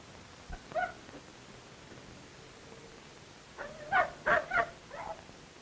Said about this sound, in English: I guess your dog told my dog he was hungry